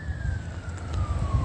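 An emergency vehicle siren wails with a steady, slowly falling tone over a dense, rumbling traffic background.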